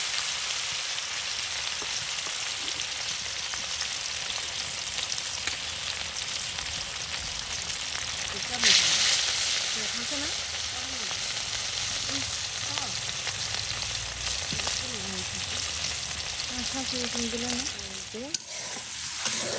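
Pieces of rui fish fry in hot oil in a pan, giving a steady loud sizzle with a sharp burst of spitting midway and faint clinks of a utensil near the end.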